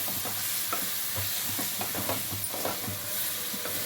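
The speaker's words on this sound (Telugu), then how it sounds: "మొత్తం కలుపుకోవాలి." Chicken curry with a spoonful of yogurt stirred in a hot pan, continuous sizzling and frying hiss with scraping spoon strokes, close and steady.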